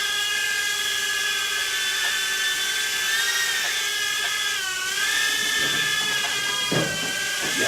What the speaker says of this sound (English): I'm just really trying to get a feel for the throttle of the drone.